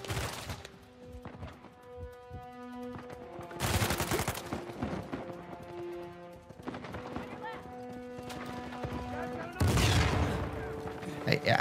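Gunfire in the video game Uncharted 4: two dense bursts of shooting and explosive blasts break through a busy battle mix of music and hoofbeats, loud and close, with sporadic single shots between them.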